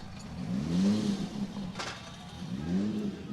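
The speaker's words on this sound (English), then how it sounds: "Doors closed. Cars running." Drift car engines running at a Formula Drift event in Monroe, a loud idling rumble with rising and falling revs repeating, heard from some distance.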